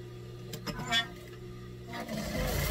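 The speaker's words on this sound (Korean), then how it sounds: "이렇게 넓게 박아요" A sewing machine stitches fabric for a zipperless laptop case in short mechanical bursts with pauses between them, close and moderately loud, with no one talking.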